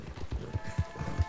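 A war horse gallops in the Red Dead Redemption 2 video game, its hooves landing in a quick, even run of muffled low thuds under a steady background wash.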